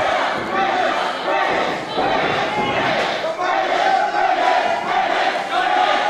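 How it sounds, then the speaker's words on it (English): Wrestling crowd at an NAW main event roars steadily behind the heavyweight champion Chris Taylor, a dense continuous wall of cheering and shouting with no breaks, loud and close throughout. "The crowd getting behind our NAW heavyweight champion, Chris Taylor. The crowd getting excited."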